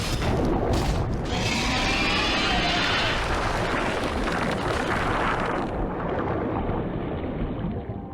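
Repeated bomb blasts in the action game Devil May Cry 2, heard as a continuous loud rumbling roar of explosions with heavy low-end booms and hissing debris, sustained throughout before tapering slightly at the end.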